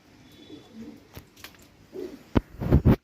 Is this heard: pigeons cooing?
yes